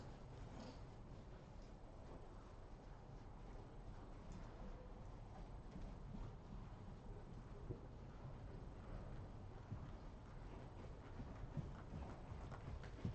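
A horse trotting in an arena during a riding lesson, steady rhythmic clip-clop of hooves on soft footing, moderately near, continuous over a low background rumble with no talk.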